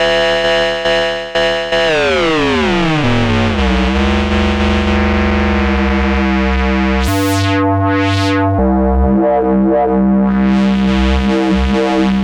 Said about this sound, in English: so these are the sort of tones you can get with the ring mod